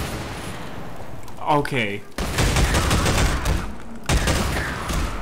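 Gunfire rattles through Half-Life 2 MMod gameplay in loud, dense bursts that start abruptly and run in two long volleys, with a short spoken word just before.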